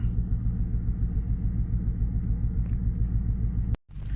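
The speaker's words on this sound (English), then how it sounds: "your vehicle might run a little rough for the first couple of seconds, just like mine here" A car engine idles low and slightly rough just after a throttle body cleaning, a steady close rumble that cuts out abruptly near the end.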